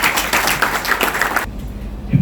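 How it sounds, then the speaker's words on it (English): An audience applauding a speaker at an event, a dense burst of clapping that stops abruptly partway through, followed by quiet room tone. "Can we give him a round of applause?"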